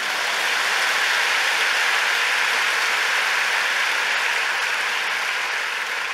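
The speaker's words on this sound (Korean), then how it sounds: "박수 한번 치세요." Congregation applause at a Korean church sermon, a steady dense wash of many hands clapping at close range, sustained evenly throughout with no voices over it.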